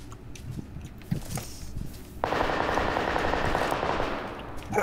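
Rapid automatic gunfire from the battle royale game PUBG Lite bursts in loudly at about the midpoint and keeps rattling steadily to the end, following scattered softer shots and game noise.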